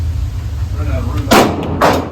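Two sharp pistol shots from a Taurus G3X ring out close together at an outdoor range, each a loud crack with a short tail, following a low background rumble.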